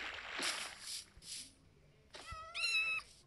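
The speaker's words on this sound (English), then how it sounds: "I saw a cat." A cat in Minecraft gives several short meows, faint and close, with a longer rising meow near the end and no talking over it.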